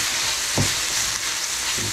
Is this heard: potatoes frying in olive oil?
yes